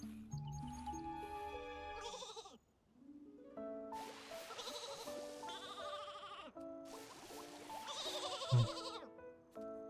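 Sheep in Infinity Nikki bleat a few times over bright game music, the calls standing out clearly against the melodic background.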